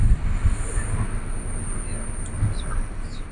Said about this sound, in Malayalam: Kanyakumari express train യാത്രയാവുന്നത്